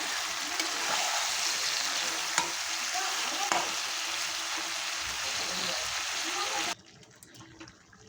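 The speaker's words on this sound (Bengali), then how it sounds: "মাংস আমার প্রায় ভাজা হয়ে এসছে" Country chicken fries in a pan with ginger-garlic paste, a loud, steady crackling sizzle with occasional stirring clatter that cuts off abruptly near the end, leaving quieter room sound.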